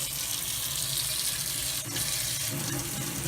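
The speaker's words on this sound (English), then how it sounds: "We've got hot water." Hot water running from a tap in an RV trailer, a steady close hiss of the flowing stream into the sink, no talk.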